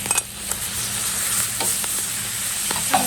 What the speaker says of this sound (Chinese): 一盘牛肉下锅炒